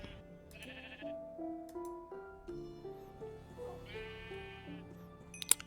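Sheep bleating in Minecraft, a couple of short wavering bleats standing out among stepped, note-like game sounds, fairly quiet with no talking.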